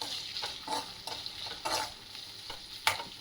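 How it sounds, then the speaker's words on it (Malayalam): Kanthari chillies sautéing in a pan for lemon pickle, a steady soft sizzle broken by several scraping stirs and one sharper clink near the end, close and with no talk. "അതും ഇട്ട് നന്നായിട്ട് വഴറ്റിയെടുക്കുക"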